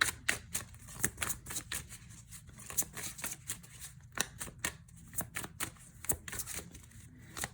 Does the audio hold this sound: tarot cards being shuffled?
yes